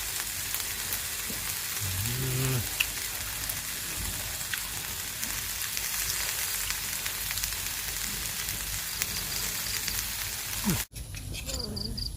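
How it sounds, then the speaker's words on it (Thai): Steady, close sizzling of pork frying on a hot grill pan at a campsite, a continuous crackling hiss with a brief voice near the start and a clatter near the end. "หมูย่างกระทะจิ้มแจ่ว"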